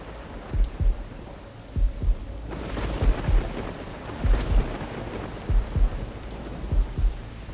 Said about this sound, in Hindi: बाहर बारिश हो रही है, आप भीग जाओगे।